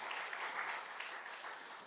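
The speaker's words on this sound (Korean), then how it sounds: "큰 박수 한번 해주시기 바랍니다." Applause from a church congregation at a spring dawn revival service, a steady even wash of clapping held at a moderate, slightly distant level for the whole stretch.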